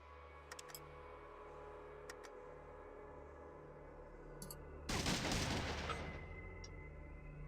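Fallout 2 gunfire in Vault City: a burst of shots breaks out after a few faint clicks and ticks over a low, steady background hum, loud for about a second before trailing off.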